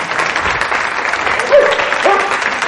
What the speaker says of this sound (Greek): Ένα χειροκρότημα μου τον άφησε.